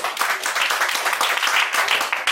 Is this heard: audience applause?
yes